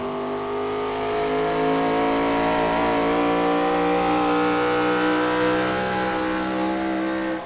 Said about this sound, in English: As we enter traffic, the cars get very loud.